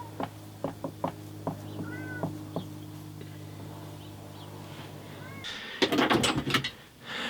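A cat meows several times in short, separate calls over a low hum, then a louder burst of scraping and clattering follows near the end.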